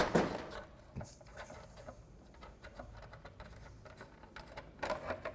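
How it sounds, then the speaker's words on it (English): A ratchet fitted with a 5mm Allen key turns out the top bolt on a Maxwind sweeper's front brush cover, giving quiet, rapid runs of small metallic clicks across the whole stretch, a little louder at the start and end. "I'm using this ratchet. So we take this bolt off at the top."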